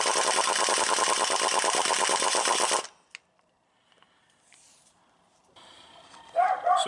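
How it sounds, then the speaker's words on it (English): Impact wrench removing drive shaft bolts on a Ford F150, one loud sustained rattling burst for about three seconds, then near silence with faint clinks and a short final buzz. "An impact wrench with a short, just a swivel extension will just about be your best friend here."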